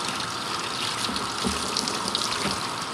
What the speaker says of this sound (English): Rinse your soap off.